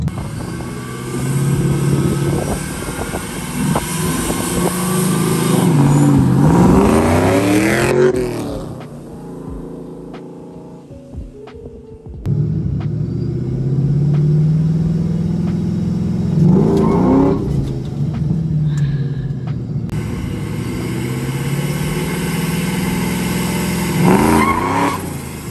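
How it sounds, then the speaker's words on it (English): A 500-horsepower Mustang launches hard on a street, its engine revving up and climbing through the gears with a loud roar. It drops to a quieter lull, then roars through a second run of rising revs, close and powerful. "so that means we can launch a little bit harder"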